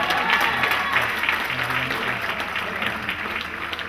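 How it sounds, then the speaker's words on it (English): An audience at an African family induction ceremony in Los Angeles gives a sustained round of applause, dense and steady clapping that fills the room and fades slightly toward the end. "Give him another round of applause."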